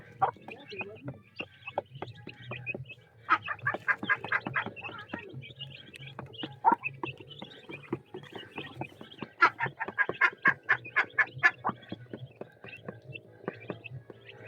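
Several chickens cluck in rapid, uneven bursts nearby, with bits of background chatter mixed in.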